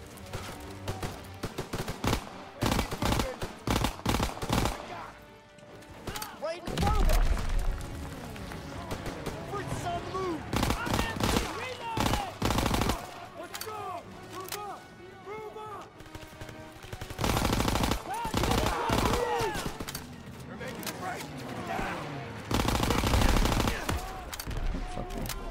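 Gunfire in the World War II shooter Call of Duty: WWII, with repeated machine-gun bursts and single shots coming in waves over about twenty-five seconds, mixed with battlefield noise and people talking throughout.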